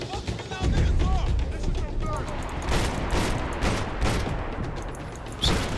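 Rapid bursts of gunfire from a third-person shooter, Max Payne 3, crackle loudly across the scene in dense volleys, with someone talking over the shooting.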